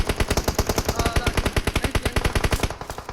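Rapid automatic gunfire in the battle royale game BGMI, a long burst of evenly spaced, loud shots firing continuously before cutting off near the end.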